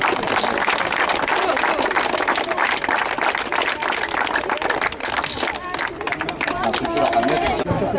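Applause and crowd noise at a football tournament held in tribute to Ben Si Said Cherif: steady, dense clapping and hubbub throughout, with people talking over it.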